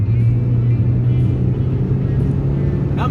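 A Renault Twingo 1.2 16v 75 hp engine runs strongly at high rpm after new spark plugs, producing a close, steady, throaty hum.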